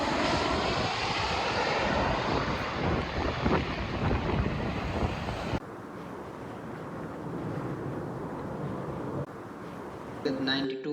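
A fixed-wing airplane engine roars loudly and steadily at Porto Alegre airport in Brazil, with wind-like rushing noise that drops to a quieter drone partway through. A voice narrates over it.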